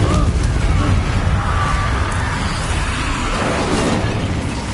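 A fire spell, Incendio, is cast in the video game Hogwarts Legacy, a loud sustained roaring burst that slowly fades under dense battle noise.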